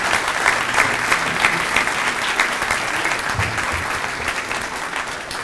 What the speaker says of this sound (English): Give Jim a big round of applause.